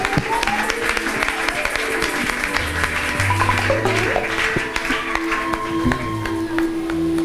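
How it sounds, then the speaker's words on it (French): A church congregation at an Easter celebration applauds in a continuous wash of clapping, with sustained keyboard tones and low musical notes sounding beneath it. "Applaudissons le Seigneur pour lui"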